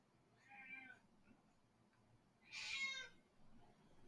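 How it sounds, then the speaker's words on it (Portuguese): A house cat meows twice nearby, a softer call followed by a louder, higher one, in a quiet room with no talking. "Se vocês estiverem escutando minha gatinha aí,"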